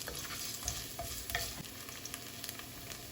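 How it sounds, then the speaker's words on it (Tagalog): Ginger sautés in hot olive oil with a quiet, steady sizzle, broken by soft scraping and stirring clicks from close by. "Okay, our oil is hot, so let's saute our first ginger."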